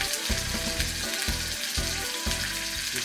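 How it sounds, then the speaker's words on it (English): Pork searing in hot oil, a dense, steady sizzle and crackle with a faint low rhythmic hum underneath, close and even throughout, no voices. "Get it down in the oil. Get a good sear on it."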